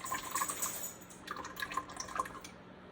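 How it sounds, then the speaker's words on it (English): Buttermilk is poured into a bowl for sourdough sandwich bread, a soft, close liquid trickle with small splashy drips that fades out near the end. "and then add 125 grams of buttermilk"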